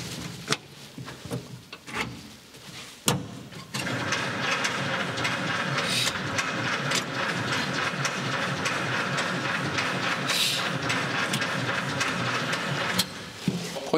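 A 30-year-old car's engine being cranked on its first start attempt, a few clicks and clunks followed by a long, steady rhythmic churning of the starter that does not catch, heard close up.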